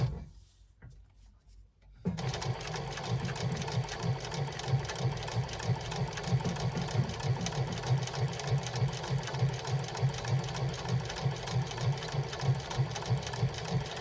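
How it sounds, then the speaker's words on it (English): A sewing machine stitches along the edge of a wristlet strap in a fast, even run of needle strokes that begins after a quiet two-second pause and continues steadily, close and moderately loud. "Now we're going to swing it around and we will sew back the other way."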